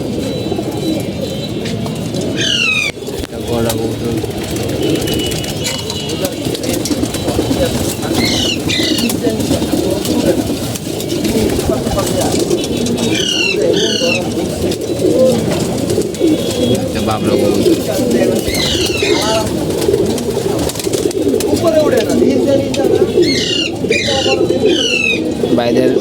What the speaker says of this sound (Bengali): আপনার সিলভার কবুতরগুলো খুব ভালো লাগছে